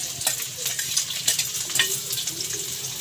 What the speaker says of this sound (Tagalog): Gisa natin hanggang sa mag-golden brown